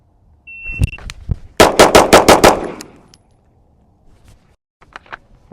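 A Kimber KDS9c Rail 9mm pistol fired from concealment on an outdoor range, a few single shots and then a rapid string of about seven loud, sharp cracks in quick succession, followed by a beep and quiet handling noises.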